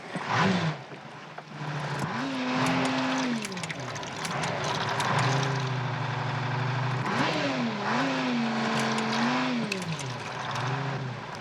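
An engine starts and keeps running, its revving pitch rising and falling in several swells, with steady loud mechanical noise and clattering over about eleven seconds.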